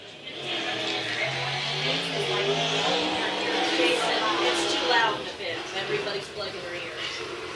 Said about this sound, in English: Chris Wyndham in car number 5G